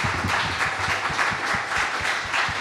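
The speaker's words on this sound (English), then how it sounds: "Let's give a round of applause to our panel." An audience applauds a panel discussion on transportation featuring the Kansas Department of Transportation, producing a steady, dense wash of clapping from many hands at moderate volume throughout.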